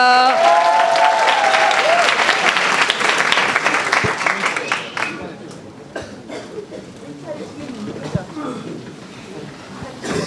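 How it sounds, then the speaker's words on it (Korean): At a choir festival, a large crowd claps loudly and steadily, then the applause thins and fades into scattered claps with a voice speaking briefly at the start. "다시 한번 여러분들 박수로 응원해 주세요"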